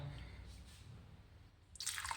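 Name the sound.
cold water poured into cooker cream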